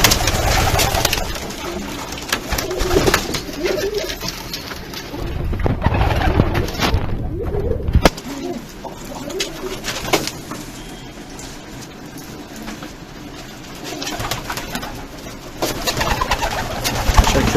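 Several shortface pigeons coo steadily inside a pigeon coop, with overlapping low throaty calls repeating throughout at close range and fairly loud, and no talking.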